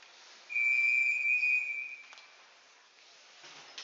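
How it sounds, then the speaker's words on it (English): A referee at a youth hockey game between the Dartmouth Whalers and Avalon Celtics blows one sharp, sustained whistle lasting about a second and a half, clear and fairly close, followed by faint rink ambience. "Whistle."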